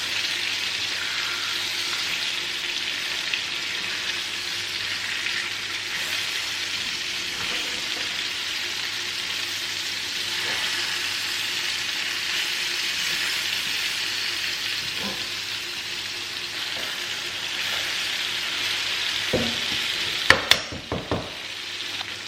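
Eggplant frying in a covered pan over a medium-low flame gives a steady, even sizzle that carries on alone for most of the time, with a few brief clinks near the end.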